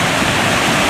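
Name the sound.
waterfall at Secret Falls, Smoky Mountains, Tennessee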